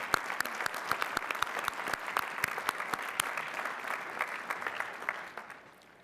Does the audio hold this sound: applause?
yes